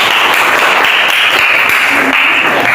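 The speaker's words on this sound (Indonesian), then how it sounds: "Kasih aplaus dulu dong." Classroom of students applauding together, a dense, steady wash of clapping that holds at an even, fairly loud level through the whole moment with no talk.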